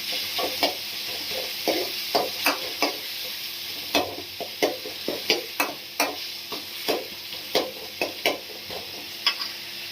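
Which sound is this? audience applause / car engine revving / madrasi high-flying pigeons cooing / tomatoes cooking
tomatoes cooking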